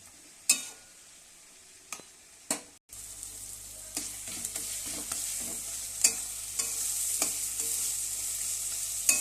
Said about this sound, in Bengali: অল্প একটু জিরা ফোড়ন দিয়ে কাঁচা লঙ্কা গোটা কাঁচা লঙ্কা দিয়ে বসিয়ে দিয়েছি